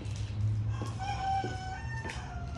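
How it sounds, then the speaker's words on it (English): A rooster crows with a long drawn-out call over a steady low rumble of outdoor background noise, fairly close, at a house in Navarre. "Wow, and we have a rooster."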